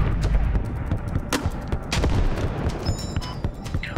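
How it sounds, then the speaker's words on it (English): Gunfire and thudding grenade blasts fill a video game firefight, with dense overlapping shots and booms running continuously and loudly throughout. "Let me lob some nades up here."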